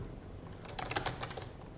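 Close, quiet tapping on a computer keyboard as a name is typed, a quick irregular run of light key clicks over a faint room hum, with no voices.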